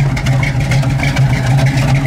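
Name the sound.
1970 Pontiac Firebird 455 engine with dual exhaust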